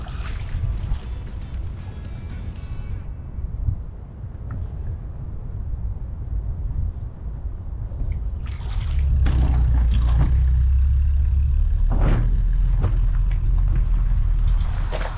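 Jet skis hauled out of the water at a Latvian ride-out, a steady rumble of water and mechanical noise that swells into a louder, heavy roar partway through, with no voices.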